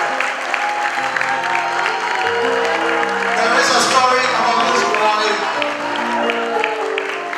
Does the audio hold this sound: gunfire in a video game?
no